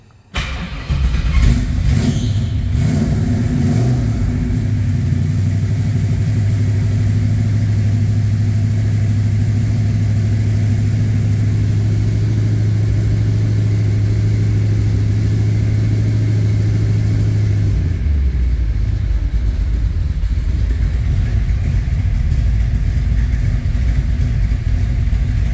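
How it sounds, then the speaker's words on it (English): A 1964 Chevrolet Nova with a 383 stroker V8 drones loudly at a steady pull while driving, holding one deep tone for a long stretch before easing off near the end. "God, I love the sound of this car."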